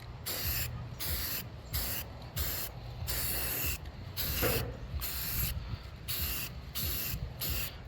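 Spray paint hissing onto an Aerotech Arreaux model rocket in steady bursts, broken by short regular gaps with faint mechanical clicks, close and continuous without speech.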